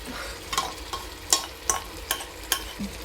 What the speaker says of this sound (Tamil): இந்த ஒரு கப் தயிரை சேர்த்து நம்ம நல்லா மிக்ஸ் பண்ணிக்கிறோம்